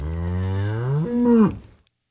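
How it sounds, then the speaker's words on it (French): A single long cow moo, loud and close, sliding down then lifting before trailing off. "C'est une vache."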